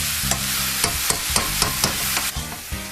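Onions and shrimp are mixed in a cooking pan, a soft sizzle under a series of sharp spoon taps and scrapes against the pan in an irregular rhythm, close by, with a low steady hum beneath and no talking.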